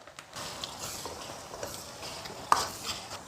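Sichuan bean paste, aged chili bean paste, dried Sichuan peppercorns and hotpot seasoning are stir-fried in a wok, making a soft sizzle with scraping stirs and one sharp metallic clink partway through.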